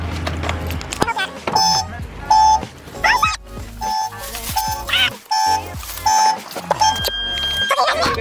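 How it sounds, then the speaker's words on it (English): Loud electronic beeps repeat in a steady rhythm, like a car alarm going off nearby, over a noisy background. "The car alarm's about to go off"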